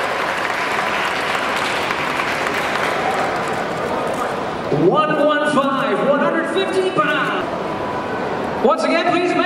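A crowd applauds at a boxing weigh-in in Hong Kong, a dense wash of clapping and cheering, while an announcer's amplified voice cuts in over the noise partway through.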